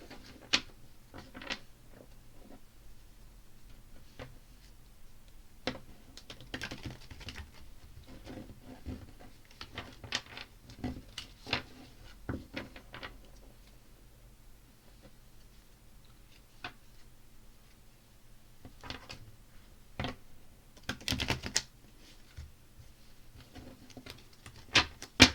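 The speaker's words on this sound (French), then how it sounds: "Je mélange pour la partie sentimentale cette fois-ci." Tarot cards shuffled by hand, a string of soft, irregular riffles and taps, close and fairly quiet, with scattered clusters of card clicks and no talk.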